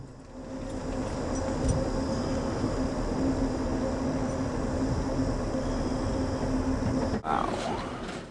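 A train rolls through New Mexico's Las Cruces country near El Paso, giving a steady, continuous rumble with a faint tonal hum throughout and a brief jolt near the end.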